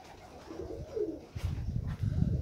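A young pigeon coos softly, with a low murmuring call followed by a couple of short, throaty coo bursts, close by and faint.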